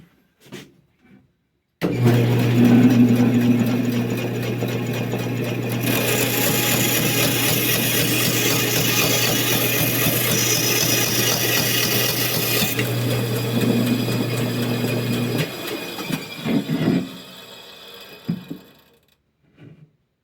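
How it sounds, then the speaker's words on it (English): Bandsaw in a workshop running steadily, with a loud, constant motor hum and blade noise as it cuts. It runs for about thirteen seconds, then spins down and stops with a few faint clunks. "I'll just take it to the bandsaw"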